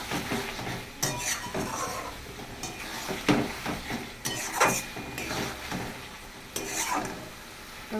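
Katla fish curry being stirred and fried in a pan, with repeated scraping and clinking of a utensil against the metal over a soft sizzle, in close irregular strokes and no talking.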